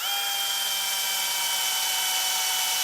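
A power drill whirs in a steady, high, continuous whine while driving a screw to fix an aluminum rod into a metal quail cage, close and loud with no break.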